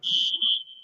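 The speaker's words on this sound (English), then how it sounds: "in IISc they have the alarm system, fire alarm. So, like it is just the stand. mock fire alarm." A mock fire alarm at IISc sounds as a loud, piercing electronic tone held steady for about a second, close and alone with no talk over it.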